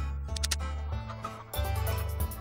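Chickens cluck in an online slot game, short bursty clucks mixed over looping electronic game music and chiming effects, fairly loud and continuous with no talking.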